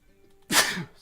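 A single sudden sneeze from a person at a tabletop game session, loud and close, bursting out of near-quiet room tone and trailing off within about half a second.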